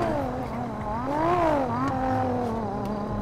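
Video game engines roar and whine as cars race by in GTA 5, pitch rising and falling steadily throughout, loud and continuous.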